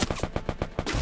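A burst of rapid automatic gunfire in a video game, close and loud, about seven quick evenly spaced shots within a second.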